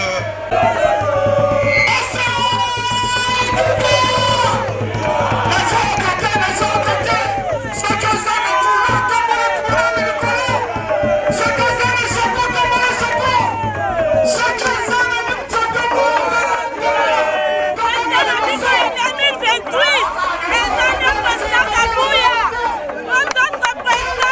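A large crowd at a political party rally in Congo cheers and calls out in a steady, loud din while a voice speaks over it through amplification.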